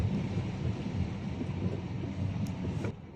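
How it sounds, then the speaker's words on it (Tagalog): Heavy, unrelenting rain pours down on a four-lane road in the Philippines, a dense broadband hiss with rumbling low-end, steady throughout and cutting off abruptly near the end. "Walang tigil ang ulan dito."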